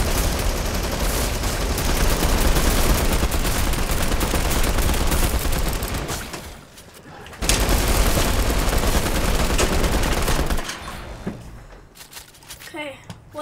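Loud, dense Fortnite video game gunfire rattles almost without pause in rapid overlapping bursts, breaks off briefly, then resumes before thinning into scattered shots.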